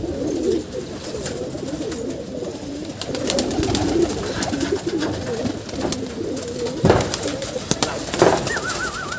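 Breeding pigeons on a rooftop loft coo continuously in low, wavering, overlapping phrases, close and fairly loud, with occasional sharp flaps or knocks and a brief higher whistle near the end.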